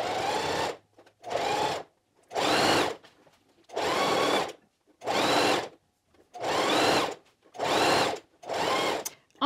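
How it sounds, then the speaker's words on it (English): A sewing machine stitches a knit neckband in eight steady bursts of about a second each, with short pauses between them. The whirring is close and clear, and there is no talking. "And I shall just sew all the way around."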